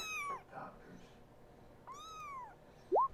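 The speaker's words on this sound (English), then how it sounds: "I heard a meow" A cat meows several times, with rising and falling calls spread across the moment and a louder, sharp final meow, close by against a quiet background.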